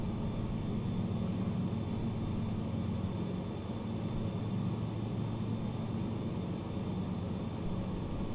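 Steady, even drone of a Piper Cub's engine in Microsoft Flight Simulator, a constant low hum on approach to landing near Pyramid Lake, unbroken and unchanging with no voices.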